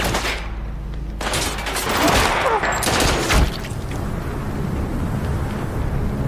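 Heavy gunfire from a film shootout between a group of officers and two criminals: dense, overlapping bursts of shots and thuds that fill the scene loudly and continuously, with no clear pauses.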